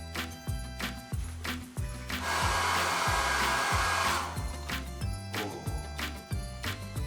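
A hair dryer in a hotel room blows in one loud, rushing burst lasting about two seconds over rhythmic background music.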